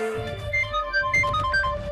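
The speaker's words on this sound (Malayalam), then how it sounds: "അപ്പോൾ അവന്റെ ഫോണിൽ സമറിന്റെ കോൾ വന്നു." Melodic phone ringtone announcing an incoming call in a study room, a short run of bright electronic tones in a quick rising and falling pattern over a low soft bed, fairly quiet and alone.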